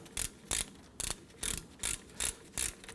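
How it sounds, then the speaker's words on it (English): A ratchet with a 14mm socket snugging rear brake bolts on a Nissan Frontier, seven evenly spaced clicking pulls heard close and fairly quiet with no talk. "Let's go ahead and snug down our bolts."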